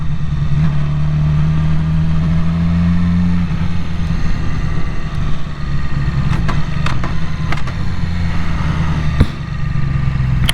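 A Yamaha R6 sport motorcycle on its first ride of the year holds a steady engine drone, then eases off and pulls again, loud and near under wind noise, with a few brief knocks.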